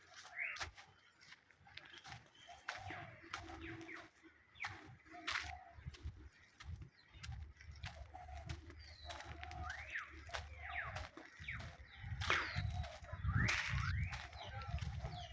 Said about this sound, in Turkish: Sese bakar mısın ya kuşlardaki?